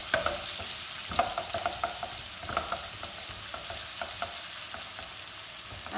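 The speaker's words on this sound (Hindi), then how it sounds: "अब इसमें हम जो है बारीक कटा हुआ प्याज डालेंगे।" Finely chopped onion frying in a pan, a bright steady sizzle with repeated soft stirring scrapes at an even pace, close and continuous with no talk.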